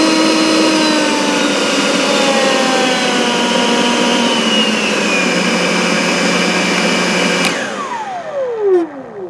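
A Litheli 2x20V brushless leaf blower runs with a loud, steady high whine, then its pitch sweeps down near the end as it is throttled back and the motor winds down.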